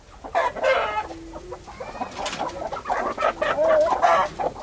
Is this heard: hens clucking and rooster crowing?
yes